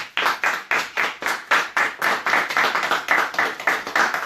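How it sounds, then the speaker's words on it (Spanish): A church congregation claps together in a steady, rhythmic beat during a worship service, the sharp hand claps close and loud, repeating evenly for several seconds without talk. "Dale un fuerte aplauso al Señor."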